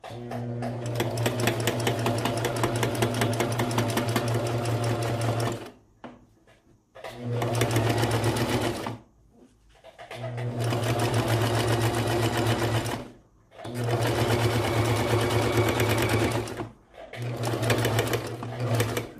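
A sewing machine runs straight stitches through fabric for a baby bandana bib, a steady close-up whirring hum in long bursts of several seconds broken by short pauses, with no talking.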